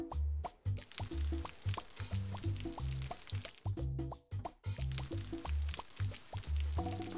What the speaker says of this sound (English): These watering cans have little holes, so when the water comes out, the seeds absorb it better.